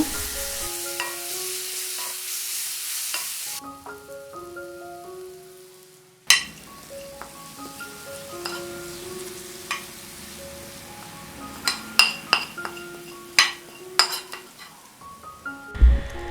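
Green chilli paste and turmeric tempering for a North Karnataka curd raita is stirred in a pan, with a soft sizzle and scattered spatula clicks that grow busier later on. Sustained tonal sounds run through the first part.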